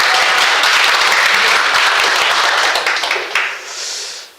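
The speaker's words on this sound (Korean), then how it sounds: "박수 한번 해주세요." An audience at a lecture bursts into loud, dense applause that holds steady for a few seconds, then thins out and fades toward the end.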